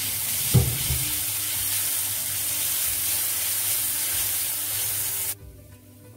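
Cumin seeds sizzle as they fry in hot oil, a steady close hiss with a brief clatter near the start, cutting off abruptly near the end.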